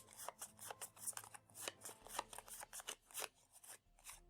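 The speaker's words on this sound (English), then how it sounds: "We take his heat up cards, shuffle them" Cards for the Dark Souls board game are shuffled by hand, a quick run of soft riffling and sliding snaps at close range, with no talking.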